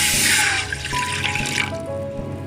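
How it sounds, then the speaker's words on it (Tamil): Water pours steadily into a milk pan on the stove for tea, a loud continuous splashing stream that settles into a lower trickle as the pan fills, with no talk over it. "அந்த தண்ணியை நம்ம இதில் சேர்த்துக்கலாம்"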